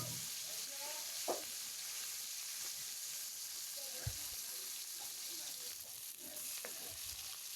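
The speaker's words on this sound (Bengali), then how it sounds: "তো আমার ভাজা হয়ে যেতেছে, আমি এক পাট উল্টে দিতেছি," Fish frying in hot oil in a pan gives a steady close sizzle, broken by a few soft knocks as the pieces are turned over.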